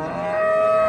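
A pregnant cow at a livestock market gives a single sustained moo, close and loud, with no talk over it.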